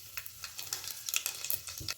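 Garam masala spices hitting hot oil in a pan while cooking mutton, giving a crackling, spitting sizzle with scattered bright pops across two seconds, steady and close.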